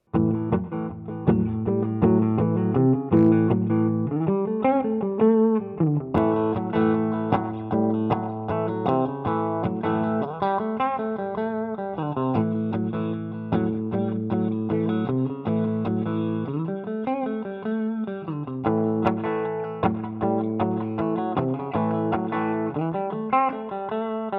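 Overdriven Mosrite-style electric guitar with P90 pickups, a punchy, gritty single-coil bite, playing chunky riffs steadily and loudly with no voices.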